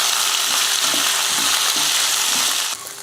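Carrots, garlic, onion, chillies, curry leaves and coriander leaves fry in a hot pan for a chutney, making a loud, unbroken sizzle with faint stirring scrapes mixed in.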